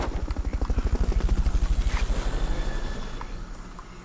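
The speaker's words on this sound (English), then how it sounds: "Fulton recovery to helicopter is complete." A helicopter in the video game Metal Gear Solid Peace Walker gives a loud, close, steady chopping of rotor beats under a high whine. The pulses swell, then ease slightly toward the end.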